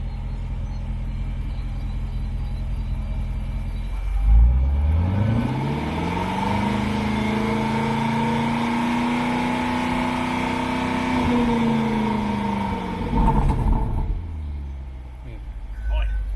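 A car engine revs steadily up to about 4,000 rpm, holds a rising drone for several seconds, then drops back slowly toward idle, heard close and continuous with no talking.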